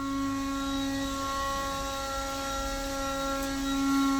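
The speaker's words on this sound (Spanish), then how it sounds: "usa un ventilador que suena como la central hidroeléctrica" The cooling fan of a heat-prone electric unicycle charger runs with a steady, loud droning hum, several sustained tones holding constant throughout with a slight swell near the end, and no voices.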